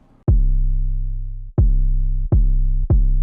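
A programmed 808 bass in FL Studio for a trap beat hits four times, each deep, booming note punching in and decaying, the first held longest and the rest shorter, loud and alone.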